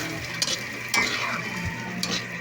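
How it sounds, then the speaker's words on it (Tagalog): Hotdogs in ketchup are stirred in a pan, a soft sizzle under occasional clinks and scrapes of a utensil against the metal. "Yan po, haluin natin para kumano siya"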